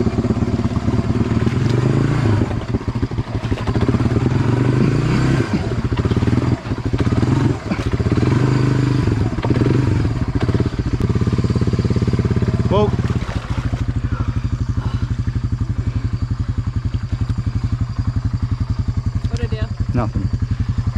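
A Honda 300 Fourtrax ATV buried in mud revs hard, and its engine roars loudly and steadily with rising and falling throttle surges, a rough, sputtering drone that runs without a break.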